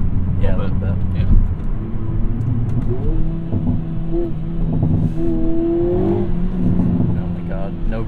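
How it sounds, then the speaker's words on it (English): A 2022 Hyundai Kona N with a DCT gearbox accelerates hard, its engine note climbing steadily from inside the cabin while people talk over it throughout. "The pops and burgles aren't quite as loud on the DCT Hyundai N"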